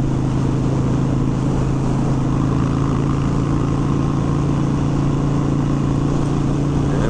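Harley-Davidson Sportster 1200 XL1200C cruising on the interstate at 70 mph, a loud steady engine drone with a constant low hum, mixed with heavy wind rush the whole way.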